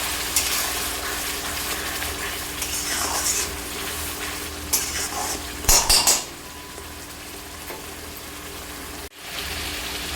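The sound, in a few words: tomatoes and spices frying and being stirred in a pan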